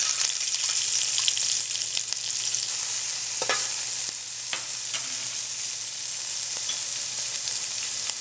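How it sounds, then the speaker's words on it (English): Chopped onion, garlic and pepper sizzle steadily in hot oil for a Trinidad curry fish, a dense, even frying hiss with a few sharp spatters and light stirring clicks, close up and with no talking. "So I have my oil heating, and I'm going to be adding my chopped onion,"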